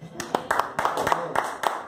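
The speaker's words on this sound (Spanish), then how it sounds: "Que se escuche ese fuerte aplauso." Clapping in church comes as a series of sharp, rhythmic claps at a steady pulse, about three per second, with a voice speaking underneath.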